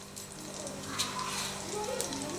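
Asafoetida and whole cumin drop into heated white cooking oil, setting off a faint, even sizzle with light crackles, over a low steady hum.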